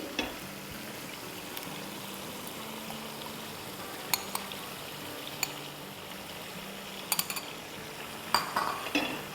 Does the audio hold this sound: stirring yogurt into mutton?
yes